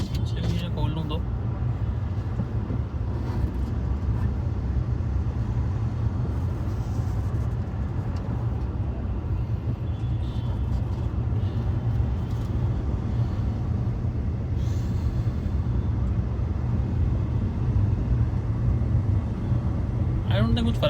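Heavy traffic jam rumbles steadily with engine drone and low road noise, a dense, continuous background of idling and moving vehicles with occasional faint horn-like sounds.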